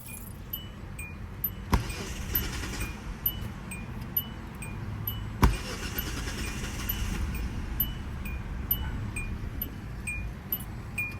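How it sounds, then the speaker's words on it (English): A car engine struggles to start after refueling, with two sharp cranking bursts a few seconds apart over a low, steady rumble and faint ticking. "every time you pump gas into your car, it has trouble starting"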